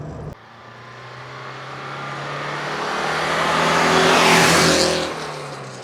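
An Alfa Romeo Alfasud hatchback engine builds steadily as it approaches, rising to a loud whooshing peak as it passes close by, then fades away.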